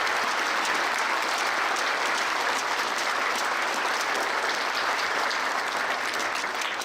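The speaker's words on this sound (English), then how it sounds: "can you give a round of applause for all these kids who are hard" An audience at a fifth grade band concert gives the young players a round of applause: thick, continuous clapping from a large crowd, loud and even throughout with no talking over it.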